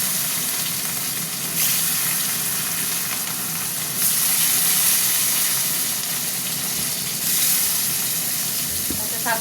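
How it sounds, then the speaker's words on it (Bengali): Fish frying in hot mustard oil in a pan, a steady loud sizzle and crackle with rising hissy bursts, continuous and close throughout. "সর্ষের তেলে ভাজবো, সর্ষের তেলেই রান্নাটা করব"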